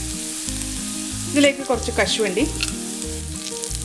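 Sliced onion and cashews frying in oil for chicken pot biriyani, a steady close sizzle under brief stirring scrapes, with someone speaking over it.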